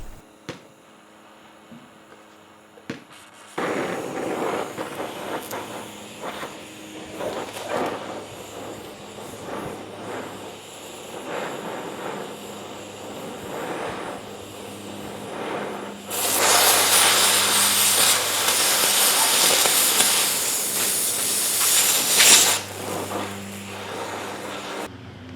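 A Harbor Freight portable oxygen-acetylene torch fitted with a cutting tip roars with a steady, loud hissing blast. The roar grows markedly stronger partway through as the cutting oxygen opens up, with no speech.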